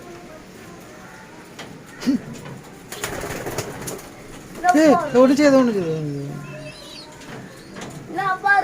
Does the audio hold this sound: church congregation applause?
no